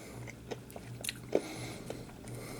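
Hard Candy Bots candy being bitten and crunched: a few short, sharp crunches spaced over a couple of seconds, close to the mouth, with no talking.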